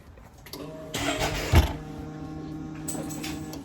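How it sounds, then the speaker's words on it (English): The ignition on a 2020 Can-Am X3 clicks and the fuel pump primes. A few sharp clicks come first, then a steady mid-pitched electric whir. The sound is close but fairly quiet, and nobody talks. "And so this clicks and it's priming as designed"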